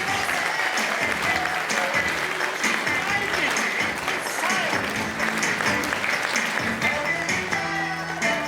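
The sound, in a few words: audience applause welcoming Dr. Mark Frohlich to the stage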